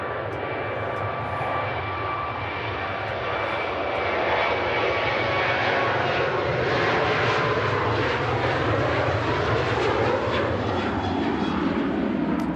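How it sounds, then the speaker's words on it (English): Airliner departing Manchester Airport for Bochum, its jet engines a sustained, loud broadband roar with a faint tonal whine, building slightly and holding steady as the aircraft rolls and climbs away. "The first departure on today's show, heading out to Bochum"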